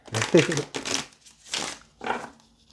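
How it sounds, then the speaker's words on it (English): A deck of tarot cards is shuffled by hand in four short papery bursts, close and fairly quiet, with a soft voice murmuring now and then. "Let's get one more shuffle."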